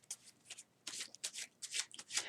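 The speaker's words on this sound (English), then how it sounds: "you're just pushing the top one off each time" Playing cards being shuffled by hand, the top card pushed off repeatedly, giving quick soft riffling bursts in an irregular rhythm, close and fairly quiet with no talking.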